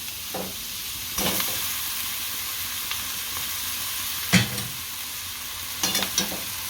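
Veg Hakka noodles with sev being stirred and tossed in a hot pan, a steady sizzle under a few distinct scraping strokes of the spatula, one louder clank near the middle; no talking.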